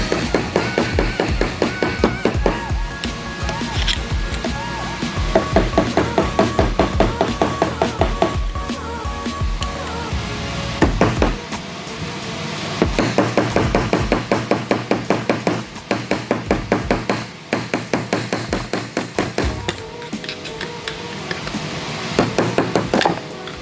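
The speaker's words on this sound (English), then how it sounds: "you're gonna take a flathead and you're gonna be just hammering out the piston" Steel flathead driver hammered against a Brembo brake caliper to drive out its piston, giving dense runs of sharp metallic knocks in rapid rhythmic bursts with brief pauses, close and loud over a music bed.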